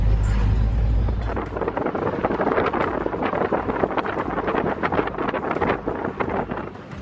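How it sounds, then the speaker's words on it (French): Desert wind gusting in Egypt between Saqqara and Abusir, buffeting the microphone in loud, uneven rumbling bursts that keep rising and falling. "pendant certaines séquences, le vent souffle un petit peu"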